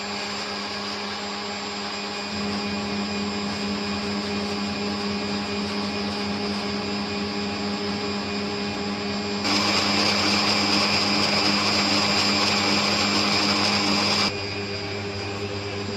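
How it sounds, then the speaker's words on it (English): Electric mixer whisking egg whites for a pavlova while sugar is added gradually, a steady loud motor whine that runs throughout and grows louder and rougher for a few seconds near the end. "right now I'm going to add sugar little by little while mixing"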